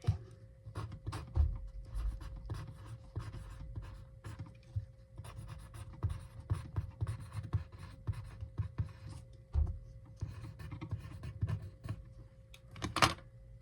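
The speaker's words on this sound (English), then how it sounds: "we're going to just write in the back with our pencil, Happy Mother's Day" Pencil scratching across paper while a Happy Mother's Day message is written, close and quiet, with steady irregular strokes and small taps and no talking.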